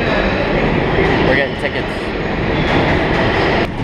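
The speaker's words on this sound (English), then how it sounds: "Is this the first time you're going on the subway in New York?" A New York subway train fills the space with a loud, steady rumble and rail roar, with people talking over it throughout.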